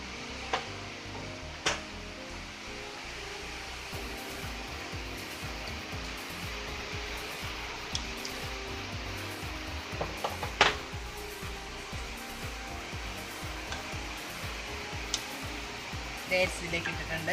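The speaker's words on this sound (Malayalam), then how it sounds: "നമ്മൾ ഈ ഒഴിച്ച വിനാഗിരിയും വെള്ളവും ഒന്നുകൂടെ ഒന്ന് തിളച്ച് വരണം." Vinegar and water come to a boil in a pan for dates pickle, giving a steady hissing, bubbling bed of sound with occasional faint clicks and knocks, and no voice over it.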